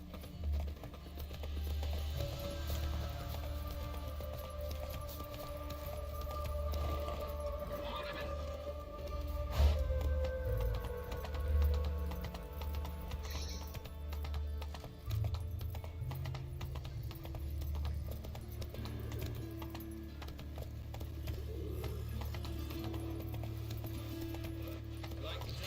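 A horse's hooves clip-clop in a steady rhythm in The Witcher 3 video game, fairly quiet under a low rumbling ambient soundscape, with a brief whinny-like sound and occasional talk.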